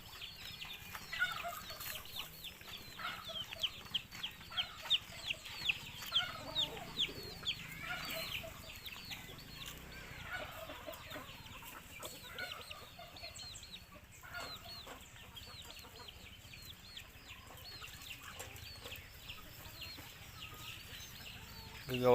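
Seven newly hatched ducklings peep rapidly and continuously in a dense, chattering chorus at close range, with faint farmyard poultry sounds in the background.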